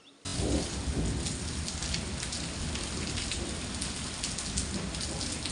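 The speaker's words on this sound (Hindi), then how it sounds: "शाम की बारिश का आनंद आप भी लीजिए" Evening monsoon rain in a mountain village at Gangolihat, Pithoragarh, Uttarakhand starts abruptly and then pours steadily, a dense, even hiss of drops close by with no voices.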